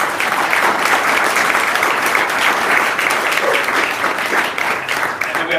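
A forum audience gives a round of applause for a presenter after his talk: loud, continuous clapping from a roomful of people, steady and close throughout with no speech over it.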